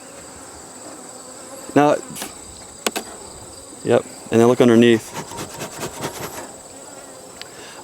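Honey bees hum steadily around storm-damaged hives, a constant close buzz running under the whole stretch while a beekeeper speaks briefly in bursts.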